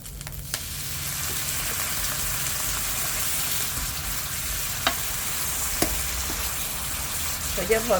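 Catfish that was fried earlier is now being stir-fried with chili in an oily pan, giving a steady close sizzle and crackle throughout, with a few sharp scraping clicks from stirring near the end.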